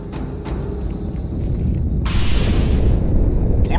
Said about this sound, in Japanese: 爆発はアテネ内部で起きています。